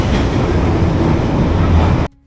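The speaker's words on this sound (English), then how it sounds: "If you're wondering what the London Underground sounds like" A London Underground tube train rumbles loudly and steadily with a dense roar of wheels and carriage noise, up close, then cuts off abruptly near the end.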